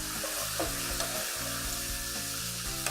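Onions, garlic, ground cumin and chili powder sauté in a pan as filling for beef empanadas, giving a steady close sizzle with repeated scraping stirs throughout.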